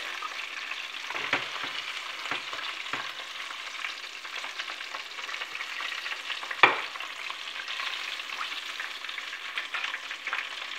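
Marinated chicken pieces deep-frying submerged in oil for crispy fried chicken, a steady close bubbling sizzle throughout with a few faint utensil knocks and one sharp clink midway.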